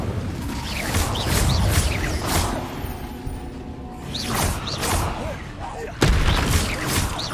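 Fire-spell casting in Hogwarts Legacy combat, with repeated whooshing blasts and booming bursts that swell and fade over several seconds. A sharp loud hit lands near the end.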